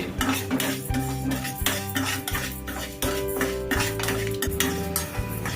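Urad dal roasting in coconut oil in a pan, stirred with a metal spoon that scrapes and clinks against the pan in steady repeated strokes over a soft sizzle.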